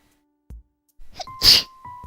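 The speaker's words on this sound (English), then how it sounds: "I hope that sneeze wasn't loud." A single sharp sneeze, loud and close, with a short breathy intake just before it and a faint tone lingering afterward.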